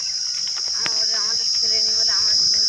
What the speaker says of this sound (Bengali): এই কী পোকা আমি জানি না ঝিঝি পোকা না কী যেন বলে